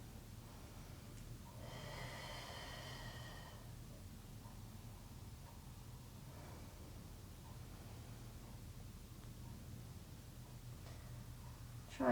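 Steady breathing in and out through a hip and spine mobility workout, one louder breathy exhale near the start followed by quieter continuous breaths over a low room hiss, with no talking.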